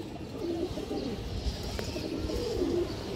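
A male pigeon coos twice, low and throaty, once near the start and again near the end, over a soft steady background hum, with no talking.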